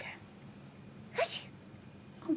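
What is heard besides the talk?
sneeze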